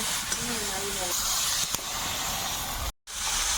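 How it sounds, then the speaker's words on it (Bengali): Curry gravy for a fish and aubergine dish boils in a pot over a fire, a close, steady hissing bubble that stops abruptly for a moment near the end, with someone talking briefly at the start. "ঝোলটা ফুটে গেছে"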